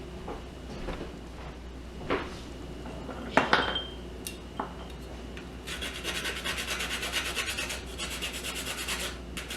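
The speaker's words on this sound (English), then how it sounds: "I'm going to freshly grate my nutmeg" Whole nutmeg being freshly grated, a raspy rubbing that starts with a few scrapes and knocks, then settles into a steady run of quick, close strokes, with no talking.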